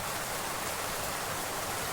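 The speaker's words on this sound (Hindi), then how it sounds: "ये तरफ में भी हूँ एकदम बारिश करत है" Heavy rain pours steadily over a village, a dense, unbroken hiss with no pauses or voices, close and loud throughout.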